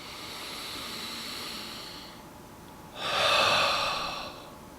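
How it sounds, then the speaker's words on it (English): A breathing exercise plays out up close: a steady nasal inhale, a short pause, then a louder, breathy exhale through an open mouth that fades out. "Inhale through the nose, open mouth, exhale."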